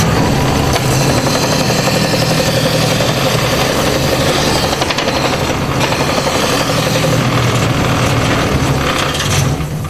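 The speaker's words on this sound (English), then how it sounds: "Belt sander, outside curves, 4-inch margin of safety." Belt sander running steadily in a workshop, sanding outside curves on a part, a loud continuous motor and abrasive belt roar that holds close and unbroken throughout.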